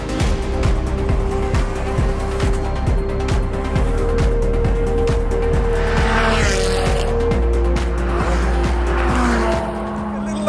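A Ferrari 430 Scuderia sports car revs hard with loud engine roar and sharp tyre squeal, its engine note rising and falling in quick repeated bursts up close.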